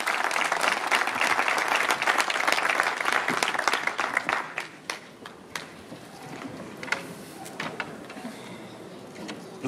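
Applause at an Italian election rally fills the first half loudly, then thins out into scattered claps and fades to quieter room noise.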